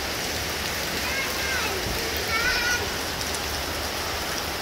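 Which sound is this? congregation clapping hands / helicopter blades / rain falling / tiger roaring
rain falling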